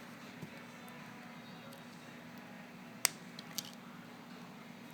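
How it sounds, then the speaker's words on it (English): Wire snipped off a handmade bead cage makes a small, sharp click near the middle, followed by a fainter second snip, both against a quiet room hum. "I can then take that wire and cut it off."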